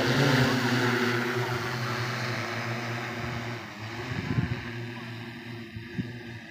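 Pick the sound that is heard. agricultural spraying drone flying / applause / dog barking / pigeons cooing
agricultural spraying drone flying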